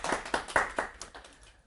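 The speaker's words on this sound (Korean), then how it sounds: "박수 한번 주세요" A few sharp hand claps from a classroom audience during a physics lecture, spaced in a quick uneven rhythm and fading out over a moment, with no talking over them.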